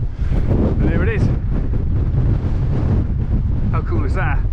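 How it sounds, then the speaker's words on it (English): Strong wind buffets the microphone in a loud, continuous roar on a cliff by a World War II lookout in North Wales, with a voice talking underneath. "You probably hear a big blast of wind now"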